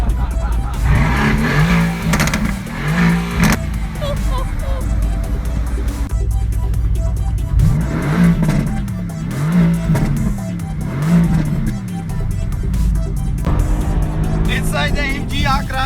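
A 2017 Mercedes-AMG GT S fitted with an Akrapovic Evolution exhaust revs hard and loud, its engine note climbing and falling in repeated sweeps with sharp crackles, while voices talk over it.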